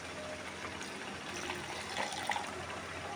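Water poured into a pan of biryani masala while it cooks, a soft, steady gushing and trickling wash that stays fairly faint, with a few brighter splashes near the end.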